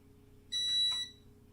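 A single electronic beep from an oven being set, a pure high tone lasting about half a second over a quiet background hum.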